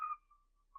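A human voice imitates the whistle of an incoming mortar with a faint, brief tone that quickly tails off, then returns for a short moment at the end.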